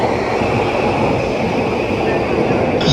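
A fast train rushing through a Japanese railway station, a loud continuous roar of wheels and rails with a high metallic whine, close by and sustained for the whole moment.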